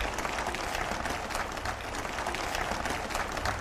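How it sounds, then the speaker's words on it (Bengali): An audience at a lecture breaks into sustained applause for the mothers present, a dense, even wash of clapping with no voices over it. "মায়েদের জন্য করতালি শুনতে"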